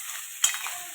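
Corn kernels are roasted and stirred in a kadhai, a steady faint hiss with a brief scrape of the spoon against the pan in the middle.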